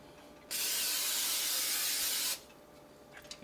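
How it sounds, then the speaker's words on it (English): Cooking spray hisses from a can into a good skillet for an ostrich egg omelet, one steady burst of about two seconds, close and loud, then stops with faint clatter after. "Now, you want to spray it again."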